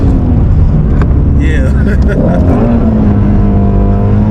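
A loud 2018 Ford Mustang Shelby GT350 engine roars with a rising, shifting tone as it downshifts, heard up close from inside the car over constant road noise, with a voice briefly audible.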